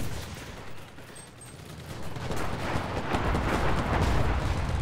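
Dense, continuous gunfire and battle din from the video game Enlisted, a thick wash of overlapping shots and rumbling that swells louder toward the end, with no clear single reports standing out.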